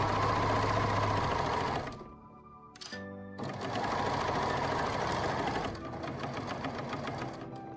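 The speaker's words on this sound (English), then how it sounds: "I put my presser foot back down and I continue sewing." A sewing machine stitches fabric in fast, steady mechanical runs. It stops briefly while the presser foot is lifted and lowered, then carries on sewing at a close, even pace.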